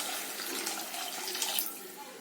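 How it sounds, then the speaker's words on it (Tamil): Water poured into a cooking pot over ground coriander and chilli powder, a continuous close splashing pour that holds steady for the whole stretch. "அதுக்கேற்ற மாதிரி தண்ணி ஊற்றிடலாம்."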